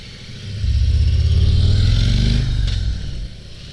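A 2022 Harley-Davidson CVO Road Glide Limited motorcycle rides by, its deep engine rumble swelling loud and close, holding steady for a couple of seconds, then fading as it pulls away.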